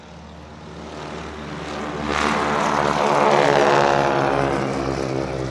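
A vintage propeller airplane in flight, its engine drone steady and loud throughout and swelling slightly louder partway through, with no voices over it.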